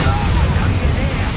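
Bombarda blast spell cast in the Hogwarts Legacy video game, a loud, sustained low booming rumble of explosion filling the whole moment, dense and close without a clear separate onset.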